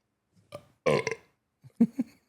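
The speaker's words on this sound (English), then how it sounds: "and a burp there too" A few loud, close burps from a man on a late-night wrestling podcast: a short one, then a longer rumbling belch, then two more brief bursts near the end.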